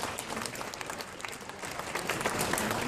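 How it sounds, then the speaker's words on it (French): An audience applauds the artists at a French event, with steady, fairly soft clapping from many hands that continues through the whole stretch. "Je crois que les artistes, vous pouvez les applaudir"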